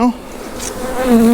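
Honey bees buzz loudly at an opened hive being split, a close, rising and falling drone of several bees right by the listener, with no talking.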